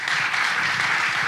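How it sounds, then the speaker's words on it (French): Dense, steady audience applause fills an awards ceremony hall, a loud continuous wash of many hands clapping with no gaps throughout. "je vous demande d'applaudir très fort pour lui"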